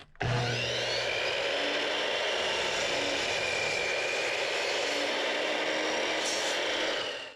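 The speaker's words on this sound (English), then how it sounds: "I'll just pop this blade in now and we'll get to cutting some aluminum." A saw blade spinning at 5,200 RPM cuts aluminum for a teardrop camper build, a loud continuous metallic whine and rasp starting abruptly and holding steady for about seven seconds before cutting off.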